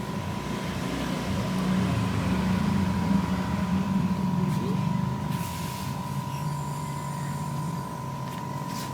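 An old split air conditioner hums steadily with a constant tonal drone and low rumble, running smoothly and evenly throughout at moderate loudness.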